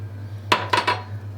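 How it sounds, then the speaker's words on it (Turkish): Butter and sugar go into a mixing bowl for apricot-hazelnut cookies: three quick, light clinks of utensil against the bowl, close and fairly soft, over a steady low hum. "Kurabiyemizi, yağımızı ve şekerimizi kabımıza alarak başlıyoruz"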